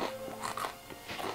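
Cape Cod kettle-cooked potato chips being crunched in a kitchen, a few crisp, close bites and chews in quick succession with no talking.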